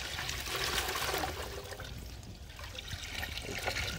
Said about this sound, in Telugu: నేనైతే రైస్ పెట్టుకోవడానికి అయితే వాటర్ అయితే యాడ్ చేసుకుంటున్నా